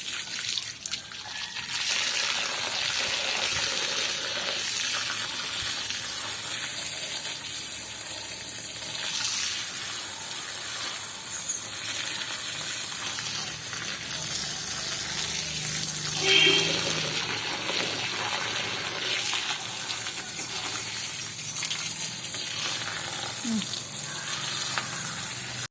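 A forceful water spray hisses steadily, washing soil off lotus tubers during repotting. Its dense rushing spatter runs close and unbroken, with faint splashes and small knocks mixed in.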